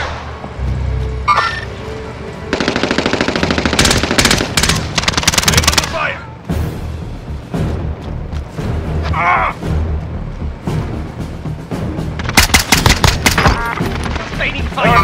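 Bursts of automatic fire from a QBZ-95 rifle in Call of Duty Warzone on Rebirth Island, loud repeated volleys separated by short pauses, with game voice callouts and other battle noise in between.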